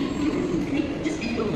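A metro train in Bangalore gives a steady, even interior rumble throughout, with faint voices underneath.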